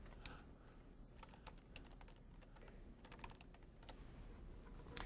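Quick, steady typing on a computer keyboard, dense light key clicks heard close but quiet, continuous over a soft background hiss.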